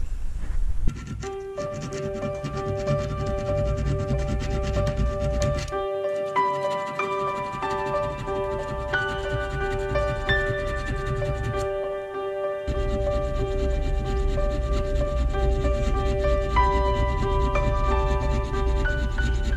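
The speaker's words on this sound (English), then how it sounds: "after some filing" Flat spots are hand filed into a metal motor shaft for an electric ATV motor mount, heard as continuous close rasping and scraping strokes with a faint ringing tone running underneath.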